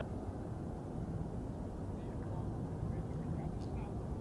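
Airliner taking off at Zurich Airport, a steady, loud broadband jet roar that holds constant throughout with no pauses.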